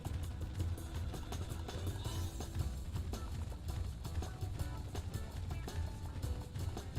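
Video game horse race in Gallop Racer 2004, a steady busy patter of galloping hooves throughout, fairly faint and alone.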